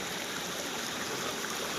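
A forest river streams steadily past fallen trees, leaves and twigs, giving a continuous broadband rush of flowing water with no voices.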